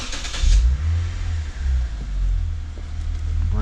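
Lexus IS250/IS350 sedan engine starting, a brief higher burst at the start settling into a steady low idle rumble close by, with no talking.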